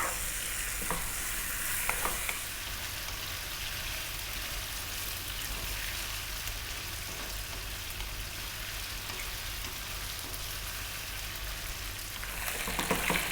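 Chicken pieces in marinade fry in a pan and are stirred throughout, a dense continuous sizzle with scraping stir sounds near the start and end, loud and close with no voices.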